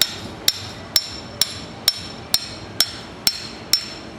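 A hammer taps the piston of a Graco FinishPro 395 sprayer pump in nine evenly spaced, sharp metallic knocks, close and alone.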